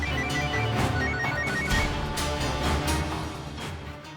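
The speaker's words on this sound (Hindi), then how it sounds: "पता नहीं फोन क्यों नहीं उठा रहा सिड।" A telephone rings on and on without being answered, its electronic ringtone repeating steadily and clearly over a low background, with no voices.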